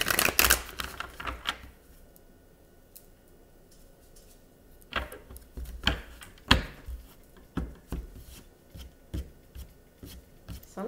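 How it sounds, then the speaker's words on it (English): Tarot cards are shuffled by hand at close range, making crisp riffling and snapping bursts. Several irregular flurries are separated by short quiet pauses, with no talking. "I'm going to shuffle a little bit more"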